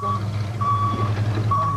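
A police vehicle stuck in the woods sounds its reversing alarm: evenly spaced high electronic beeps repeat over a low, steady engine rumble.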